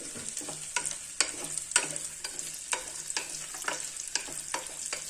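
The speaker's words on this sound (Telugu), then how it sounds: "మటన్ పీసులు వేసుకునేస్తాము వీటిని ఆయిల్లో బాగా వేయించుకోవాలి" Mutton pieces fry in oil with a constant close sizzle, broken by regular scraping strokes of a spoon stirring about twice a second.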